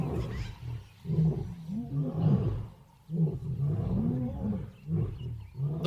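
A big cat roars again and again in long, deep, rumbling bursts that rise and fall with short pauses between them. The roars are loud, close and alone, with no talk over them.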